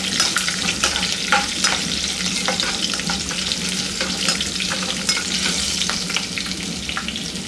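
Coconut rice tempering frying on a low flame, a steady close sizzle and crackle of oil with occasional stirring scrapes, continuous and even with no talking.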